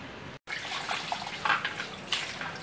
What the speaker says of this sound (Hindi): तीन पानी से वॉश कर लूँगी मैं